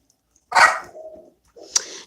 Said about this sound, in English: that's Fox, and I don't know what she's barking at.